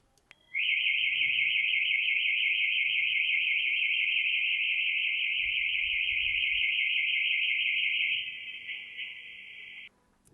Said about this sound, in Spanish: Claramente era la alarma de una moto